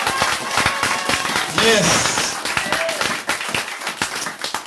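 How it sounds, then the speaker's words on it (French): A church congregation applauds with scattered, uneven clapping, while voices talk and call out over it throughout. "gros applaudissement"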